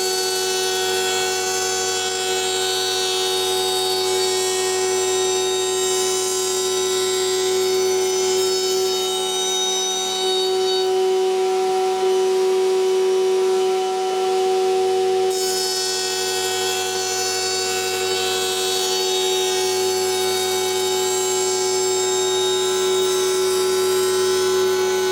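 A router on a router table trims the edge of a timber board in repeated passes, a steady whining motor drone with shifting cutting noise that drops briefly between passes.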